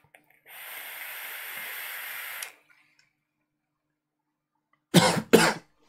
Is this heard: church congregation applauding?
no